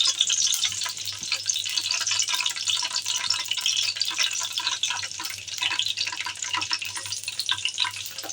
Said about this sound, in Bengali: তেলের মধ্যে মাছগুলি আস্তে আস্তে আমি ভেজে নিব, উল্টিয়ে পাল্টিয়ে ভেজে নেব।